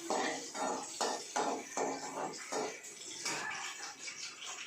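Garlic sizzles in a pan while potato manchurian is being cooked, a watery hiss that rises and falls in regular pulses as it is stirred, close and fairly soft.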